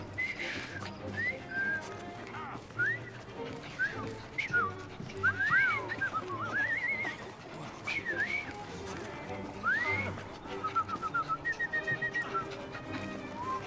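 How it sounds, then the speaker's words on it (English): A character whistles a wavering, tuneful melody in the Assassin's Creed Syndicate video game, set over ambient street noise with low background rumble, ending in a quick run of short whistled notes. "I've just learned to whistle."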